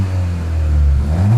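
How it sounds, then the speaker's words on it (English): A Mountune MR265 Ford Fiesta ST idles with a low, loud, close rumble, then the turbocharged engine rises briefly in a short squirt of boost near the end. "that's cool, the way you get the turbo squirt."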